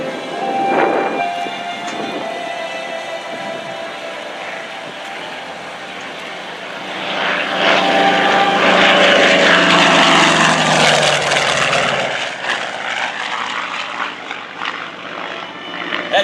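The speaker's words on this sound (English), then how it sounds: "let's listen to the Collings Foundation's A-1E Skyraider" An A-1E Skyraider with a big Wright 3350 radial engine flies past at an airshow, its droning roar building from a distant hum to a loud, rough pass overhead before fading away, with no voices over it.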